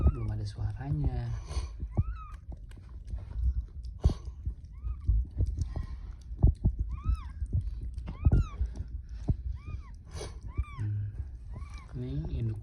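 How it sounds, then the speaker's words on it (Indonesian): Newborn kittens meow in thin, high, repeated cries scattered through the scene, close by, mixed with rustling, handling noise and an adult voice speaking. "Kakaknya nih udah ngeong-ngeong, tinggal si adek nih belum ada suaranya."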